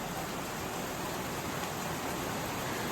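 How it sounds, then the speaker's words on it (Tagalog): Heavy rain pours down outside a small sari-sari store, a dense, continuous, loud hiss that fills the whole clip without pause or voices. "nagsisimula na naman lumakas ang buhos ng ulan"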